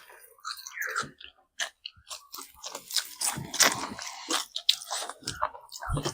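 Someone eating goat meat curry up close, with irregular moist chewing, biting and squishy crunches coming in bursts and short pauses, and no talk over it.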